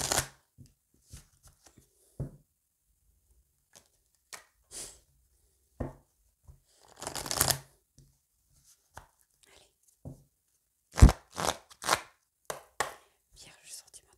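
Tarot cards are shuffled and cut by hand, giving sparse, close, quiet flicks and taps with a short riffle in the middle and a quick run of snaps near the end.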